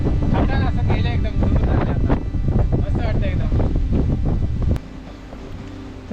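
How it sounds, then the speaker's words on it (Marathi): Strong wind on the trek up Kalavantin Durg in the Sahyadri hills buffets the microphone in loud, gusty bursts while someone talks over it. It eases off sharply near the end. "अरे एकदम हवा सुटली"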